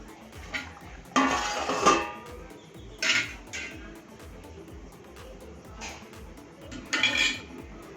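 A metal lid is set back onto a pot of chickpea gravy on the stove, with several short clanks and scrapes of cookware scattered among quiet pauses.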